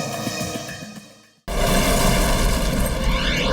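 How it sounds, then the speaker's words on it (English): Explosions tearing through New York City: a rumbling, roaring blast sound drops into a brief near-silence, then a loud, sustained boom with dense rolling debris noise fills the rest, dramatic and close. "A series of explosions rip through New York City."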